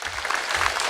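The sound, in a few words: audience applause at state fair rally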